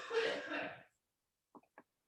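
A person in an online meeting gives a short burst of sound, about a second long, followed by a pause and two faint, brief catches, heard alone without talk.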